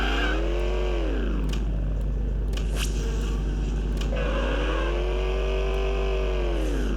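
Car engine revving in the video game Enviro-Bear 2000, with harmonic pitch sweeps that climb, drop, then climb again. It is steady and loud over a constant low hum, with no talking.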